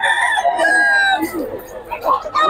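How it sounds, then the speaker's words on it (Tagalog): A Gilmore gamefowl rooster crows loudly and close by, its long drawn-out call stretching through the first second or so, followed by softer clucking and rustling. "Hindi, yung manok lang to."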